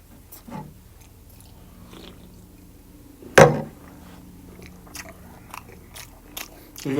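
Close, quiet mouth sounds of chewing a stone-baked egg, with one sharp bite near the middle followed by softer smacking and crunching bits.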